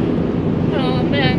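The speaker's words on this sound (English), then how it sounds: "it's very windy" Steady, loud wind rushing across the microphone near Trinidad, Colorado, a constant broadband roar with gusty buffeting and some talk mixed in.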